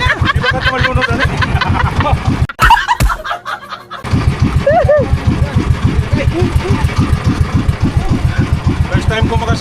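A boat engine carrying eight people chugs in a fast, regular pulsing rhythm close by. It briefly cuts out before resuming, and people talk over it.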